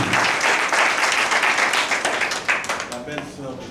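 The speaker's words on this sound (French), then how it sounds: "Des acclamations pour le deuxième témoin de l'époux." Applause and cheers at a wedding ceremony for the groom's second witness, a woman, dense clapping mixed with crowd voices, loud and continuous, tapering slightly toward the end.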